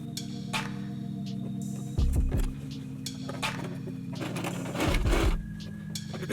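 A sewing machine stitches a square-neck puff-sleeve top down to the neckline, its steady mechanical whir running near and continuous, with two louder bursts of motor hum partway through.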